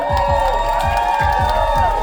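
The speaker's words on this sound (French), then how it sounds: "Donnez un applaudissement pour les vétérans, s'il vous plaît, tout le monde!" A crowd cheers and claps for veterans at an evening show, loud shouts and whoops rising over steady applause with a rhythmic low thumping throughout.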